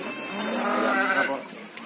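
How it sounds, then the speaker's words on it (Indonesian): A goat on a village farm lets out one long, loud, wavering bleat close by, fading after about a second and a half with quieter background sound. "Ada ternaknya, ada kambing"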